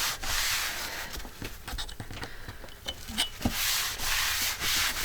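Someone scrubs a craft cutting mat with a cork backing clean, producing close, rough scraping strokes in quick back-and-forth bursts with brief pauses between passes.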